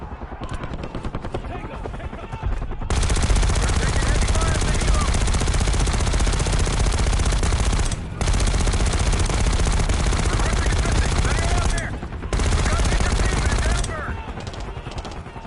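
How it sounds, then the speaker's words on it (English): Sustained machine gun fire with dense gunfire bursts from the Black Ops 6 video game campaign in a desert dune setting, loud and continuous for most of the stretch with brief pauses, voices speaking over the battle. "You've got gunfire to the right."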